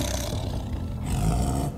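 A deep, rumbling tiger roar swells and sustains for nearly two seconds, loud and close, with no voices.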